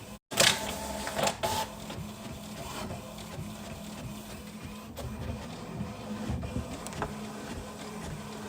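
A printer runs at close range, whirring and clicking with rattling paper-feed sounds and brief louder mechanical bursts, steady throughout with no talking.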